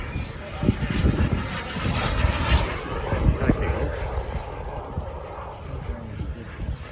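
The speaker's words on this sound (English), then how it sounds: "The next plane coming up is a jet, and I could hardly keep up with it" A jet plane passes at an air display, a loud roaring engine sweep that rises and churns across the whole stretch, with voices mixed in under the noise.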